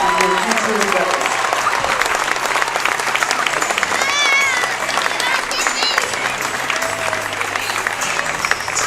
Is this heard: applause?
yes